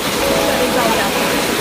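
Water rushes steadily down the stream at Dodhani waterfall near Panvel in Navi Mumbai, running at low flow, a loud, continuous, close-up hiss with no voices.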